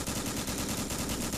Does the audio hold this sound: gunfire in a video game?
yes